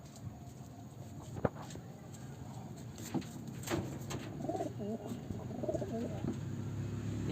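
Madrasi pigeon cooing softly while being handled in a loft, with low repeated coos and light flutters and pats over a steady background hum, close by and fairly quiet.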